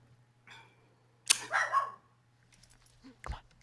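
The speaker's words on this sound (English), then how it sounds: "that's my dog. Oh, Miko" Miko, a pet dog, lets out a single loud, close bark between brief bits of background noise, then a soft thump, over a steady low hum.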